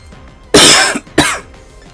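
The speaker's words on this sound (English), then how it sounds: "Apologies for that cough." Two loud, harsh coughs close to the microphone, the first longer and the second shorter, separated by a brief pause, with no talking.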